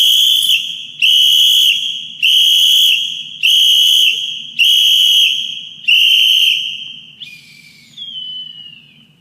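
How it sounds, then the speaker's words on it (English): A coach blows a whistle in six sharp, loud blasts at a steady rhythm, each about a second long, then ends with a weaker, falling trill. "one of the coaches will blow a whistle"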